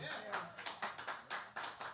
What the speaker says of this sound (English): I want more clapping, more clapping, more clapping.